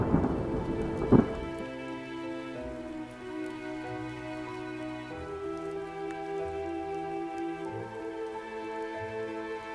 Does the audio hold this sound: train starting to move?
no